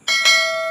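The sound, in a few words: bell sound effect for the subscribe bell icon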